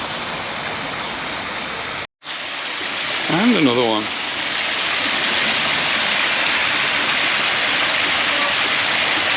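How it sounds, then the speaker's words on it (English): Steady rushing splash of a water feature flowing halfway up a flight of steps along a seaside promenade in Palma de Mallorca, continuous broadband wash with a brief dropout and a short spoken remark over it. "And even a water feature halfway up."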